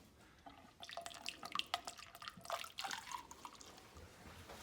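Water splashing and trickling into a funnel for a car heater core flush, irregular drips and gurgles rising and falling close by, no talking.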